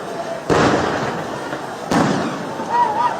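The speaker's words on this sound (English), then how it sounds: "I hope you can hear the gunshots" Two loud gunshots in Uganda, about a second and a half apart, each a sharp crack with a lingering echo, with faint outdoor noise between them.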